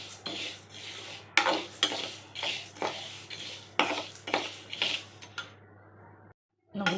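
Sesame seeds tossed in a hot pan with the stove off, a spatula scraping and clinking against the metal in quick irregular strokes over a soft low sizzle, close up, then a brief silence.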